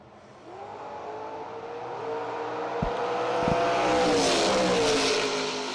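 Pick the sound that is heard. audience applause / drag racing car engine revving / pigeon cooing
drag racing car engine revving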